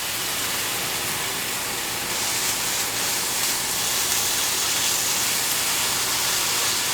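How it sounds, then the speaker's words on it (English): Bacon slices sizzling in a hot pan while making breakfast burritos, a steady close broadband hiss and crackle that holds evenly throughout with no talking. "I lay them flat, and you ideally want to hear that sizzle."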